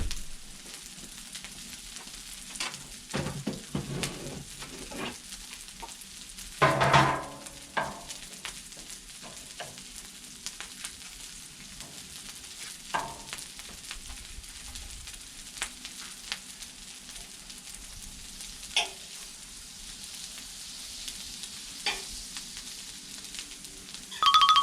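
Chicken fried rice sizzles steadily on a Blackstone griddle, with the scrape and clatter of a spatula stirring at intervals, nearby and moderately loud.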